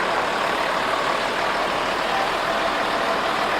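A 1952 Austin K9 K-series military recovery truck engine runs steadily at close range, a constant broadband rumble filling the whole stretch with no pauses and no talk over it.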